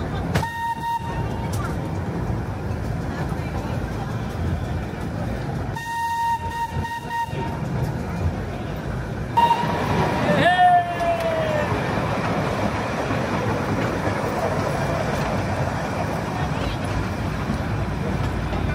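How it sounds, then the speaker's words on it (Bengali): Darjeeling toy train running around the Batasia Loop, with a steady rumble of wheels on the rails throughout and several short whistle toots, one louder near the middle, while people talk faintly. "ট্রেন কিন্তু যাওয়ার পথেও বাতাসিয়া লুপ হয়ে ঘুরছে।"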